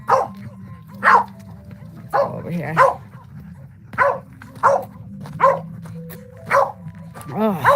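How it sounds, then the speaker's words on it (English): A dog barks repeatedly in short sharp bursts with brief whimpering yips between them. Nearby speech is heard between the barks on a calm outdoor day. "We can't take a barking dog constantly."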